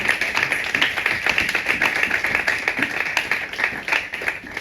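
Steady rhythmic clapping from a congregation at a Sunday church service, many hands beating together continuously in quick time, dense and close, with no voices over it.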